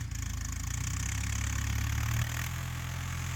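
An Indian-made four-cylinder 5050 tractor engine running nearby, a steady low throbbing idle that shifts slightly in tone partway through, with no talking.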